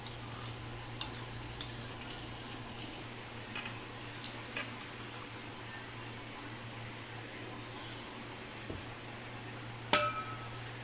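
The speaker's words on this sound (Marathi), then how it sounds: "यानंतर आपल्याला यामध्ये शिजलेले चणे मिसळून घ्यायचे आहेत" Cooked chickpeas being stirred into masala in a pan, a low continuous sizzle with occasional soft scrapes and one sharper clink of the spoon near the end, close and quiet.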